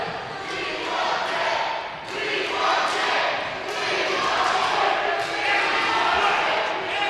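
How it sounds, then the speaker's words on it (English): A wrestling crowd chants the name of the performer Dick Davis, a loud, continuous roar with rhythmic swells of voices filling the arena from start to finish. "This chant of the crowd is legitimate for airplay because the performer's name is Dick Davis."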